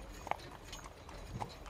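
Horse hooves clip-clop faintly in a fantasy desert roleplay scene, a carriage being pulled over sand-covered ground, with a few sparse soft knocks over a quiet steady background hiss.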